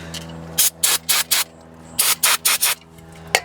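Brake cleaner sprays in short bursts onto the brake rotor of a 2007 Ford Expedition: four quick hissing blasts, a pause, then four more, close and loud with no talking.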